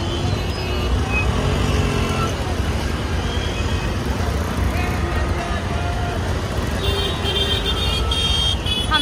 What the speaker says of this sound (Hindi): बहुत ज्यादा ट्रैफिक है इधर पे मुमरा में